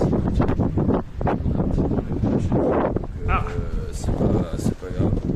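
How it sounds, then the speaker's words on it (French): Wind buffets a microphone outdoors on a Paris street, with rough, gusty rumbling running throughout while people talk over it. "En plus, il y a du vent."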